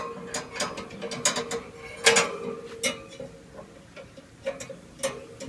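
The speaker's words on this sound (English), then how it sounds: "Now, I'll just take out the other grate." A metal grate being lifted out of a Texas-shaped BBQ pit, with clanking, ratcheting metal knocks and scrapes in an irregular sequence and one loud clang near the middle, heard close with no talking.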